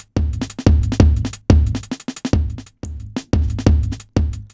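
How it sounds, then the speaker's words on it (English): A drum loop plays alone in Ableton Live: punchy kick and snare hits with crisp hi-hats in a steady, driving groove, loud and close, with no talking. "my drum loop here, which, by the way, by itself sounds like this."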